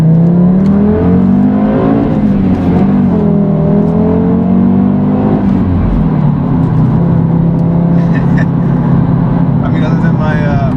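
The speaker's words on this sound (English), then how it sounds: "you can also hear the turbo spool up" Engine of a 2013 Audi TT RS five-cylinder turbo revving hard from inside the car, a loud steady drone rising and falling with audible turbo whistle and spool, with voices talking over it.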